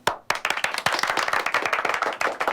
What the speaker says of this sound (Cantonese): 大家俾啲掌聲